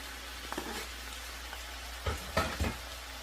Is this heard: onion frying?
yes